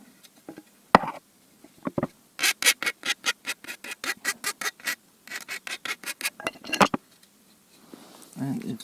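A hand file rasps rhythmically along an aluminium profile that was cut with an angle grinder, a steady run of close, crisp strokes with a few brief pauses and faint knocks between them.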